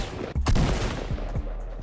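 Gunfire in the video game Fortnite: a short, close burst of several rapid shots, followed by a few more scattered reports.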